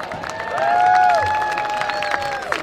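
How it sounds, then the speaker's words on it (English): A crowd applauds the football seniors at a high school senior night game between Barrington and Palatine. Moderate, sustained clapping and cheering is heard at a distance, with a high whistle-like tone over the crowd. "And a nice applause for your football seniors."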